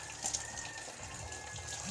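Tap water runs steadily into a sink while dishes are washed, a soft continuous gush with a few light clinks near the start.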